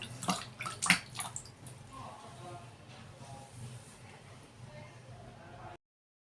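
Water splashes and trickles as coconut oil is rinsed off a face, with a couple of sharper splashes at the start, then a softer steady wash that stops abruptly.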